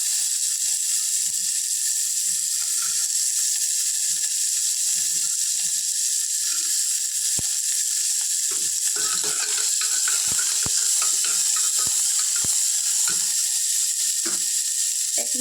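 Whole spices (cloves, cardamom) and green chilies fry with vegetables in a pan on low flame for paneer pulao, giving a steady, continuous sizzle with scattered small clicks and scrapes near the end.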